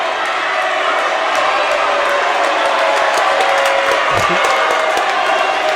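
A home crowd at a high school boys' basketball game, Penwood, roars and jeers in a dense, sustained wash of voices, loud and continuous with shoe squeaks mixed in.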